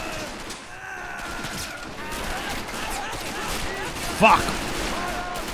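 MG42 machine gun fire rattles through a WWII battle at the Azeville Battery, Normandy 1944, in a realism-modded shooter game, a steady din of gunfire with one sharp burst near the end, under shouting voices.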